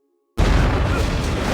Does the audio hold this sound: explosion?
yes